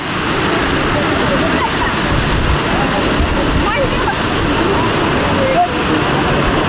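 Kakochang Waterfall near Bokakhat in Karbi Anglong, a loud, continuous broadband rush of falling water close by, steady throughout with a person's voice briefly heard over it.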